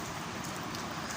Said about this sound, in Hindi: बारिश, गरजते बादल और चमकती बिजली तो इसे खौफज़दा कर ही रहे थे